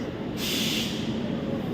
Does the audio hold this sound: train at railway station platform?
yes